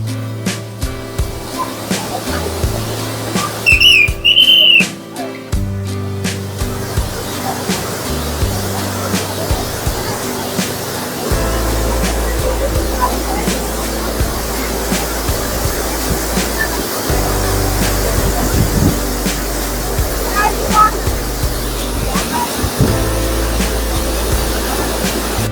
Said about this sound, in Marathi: जसं आपण धबधब्याच्या जवळ जातोय ना, तसा आवाज अगदी प्रचंड येतोय धबधब्याचा